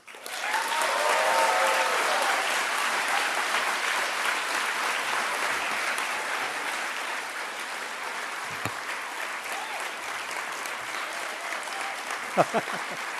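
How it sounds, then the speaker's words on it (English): Sustained applause from an audience at a political conference's opening night fills the room, dense and steady, slowly thinning, with a few brief voices near the end. "Why are you clapping?"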